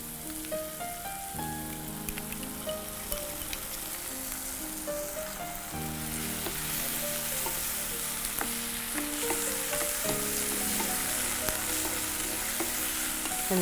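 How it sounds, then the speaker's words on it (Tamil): Onion, ginger, garlic and green chili paste sauté in a pan with a continuous crackling sizzle and occasional stirring, close and steady, while soft melodic tones play faintly underneath. "அதே சமயம் இந்த வெங்காயம், இஞ்சி, பூண்டு ஓரளவுக்கு நல்லா வதங்கணும்"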